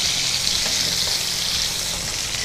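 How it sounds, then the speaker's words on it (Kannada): Four chillies and half an onion fry in a pan with a loud, steady sizzle, close up and continuous, with faint stirring. "ಲೈಟ್ ಬ್ರೌನ್ ಬರೋ ತನಕ ಒಂದು ಸ್ವಲ್ಪ ಫ್ರೈ ಮಾಡ್ಕೊಳ್ಬೇಕು."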